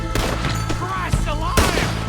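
Sharp gunshots crack out in Red Dead Redemption 2 during a shootout near some huts, about four loud bursts spaced unevenly across two seconds over a steady background bed, with voices present.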